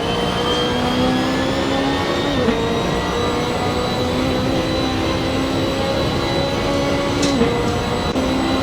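A GT race car at the Macau circuit brakes hard and downshifts into second gear for turn 3, its engine whining and revving steadily at close range, with brief pitch dips during gear changes.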